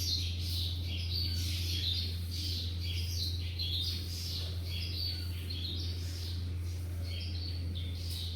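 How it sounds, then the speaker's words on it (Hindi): Many small birds chirp and twitter at dawn around a home, a dense, continuous chorus of high calls over a steady low hum, fairly faint throughout. "सुबह सुबह देखिए चिड़िया किस तरह चहचहा रही हैं"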